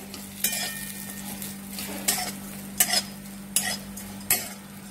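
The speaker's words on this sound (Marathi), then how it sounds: "त्यामध्ये टाकून घेऊया कांदा, तो पण मस्त असा आपल्याला लालसर भाजून घ्यायचा आहे। कमी गॅसवरच आपल्याला कांदा पण तळून घ्यायचा आहे।" Onion frying in a little oil over a low flame while making Solapuri black masala, a soft steady sizzle with intermittent louder scrapes and stirring clatters of a spoon in the pan, no talking.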